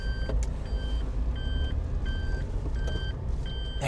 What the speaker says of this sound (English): Let me back this car up here.